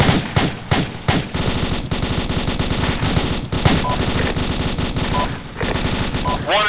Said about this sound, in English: Shots fired north.